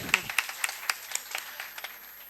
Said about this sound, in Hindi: इनके लिए भी जोरदार तालियां हमारे वॉलंटियर्स के लिए